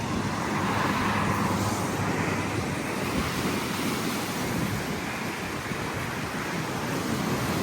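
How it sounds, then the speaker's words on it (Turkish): Continuous roar of sea waves washing in on the shore at Güzelbahçe, İzmir, broad and steady, mixed with wind buffeting the microphone. "Bakın nasıl geliyor dalgalar."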